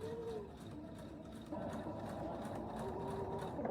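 A Husqvarna Viking sewing machine stitches steadily with a fast, even mechanical whir that grows slightly louder partway through, heard up close with no talking.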